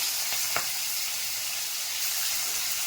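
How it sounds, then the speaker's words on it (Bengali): Hilsa fish frying lightly in a pan gives a steady, close sizzle with a soft crackle, plus one brief sharp clatter near the start and no voices. "আমি প্রথমে হালকা করে কিন্তু মাছটাকে ফ্রাই করে নেব বেশি ভাজবো না আমি হালকা ফ্রাই করবো"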